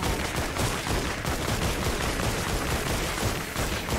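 Rapid, continuous gunfire from a newly acquired gun in Fortnite: Save the World, a loud unbroken stream of shots with no pauses, alone without talk.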